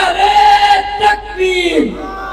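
A crowd at a political speech by Maulana Fazl ur Rehman at a madrasa in Karachi roars back a slogan, a loud massed shout of many voices rising and falling over about two seconds.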